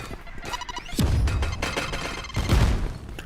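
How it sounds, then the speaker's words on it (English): Two heavy grenade explosions in the tactical shooter Valorant, each a sharp crash with a deep rumbling tail, about a second and a half apart, loud and close over faint game ambience. "Grenade!"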